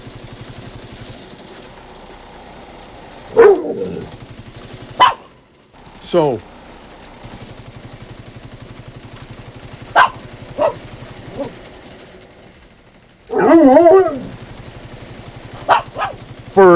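A pet dog named Caesar barks in a few sharp, separate bursts and whimpers close by in a room, over a quiet hum, with someone talking between the barks.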